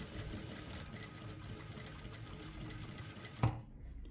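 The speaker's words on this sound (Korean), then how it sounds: "이렇게 해서 뒷목까지 쭉 해서 박아주세요" A sewing machine stitches the facing onto a blouse lining, a steady fast mechanical whir and rattle running continuously up close, ending with a sharp clunk as it stops.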